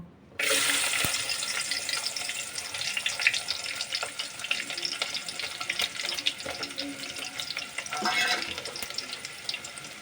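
Chopped onions dropped into hot oil for a Gujarati fish curry, giving a steady, dense sizzle that begins abruptly and carries on evenly with small crackles throughout.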